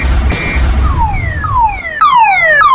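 A car alarm blares loudly and close by, cycling through repeated rising electronic whistle tones that sweep upward again and again, with no talking.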